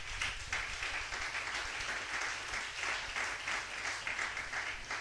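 A church congregation applauds and cheers for Jesus, a dense, steady wash of clapping filling the room throughout with only faint voices mixed in.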